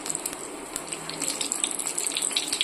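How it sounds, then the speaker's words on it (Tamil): Fennel seeds splutter in heated oil in a pan for squid masala, a close, dense crackling sizzle that keeps up without a break. "சோம்பு போட்டு அது கொஞ்சம் பொரிஞ்சிடுச்சு."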